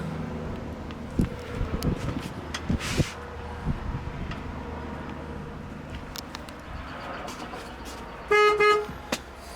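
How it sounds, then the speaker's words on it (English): A 1971 Chevrolet Monte Carlo sounds its horn in one short honk near the end, after a stretch of steady outdoor background noise. "Horn works as well."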